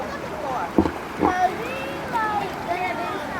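River water on the Chattahoochee while tubing toward a small waterfall, with a few splashes and a low rushing flow under continuous nearby chatter from people talking.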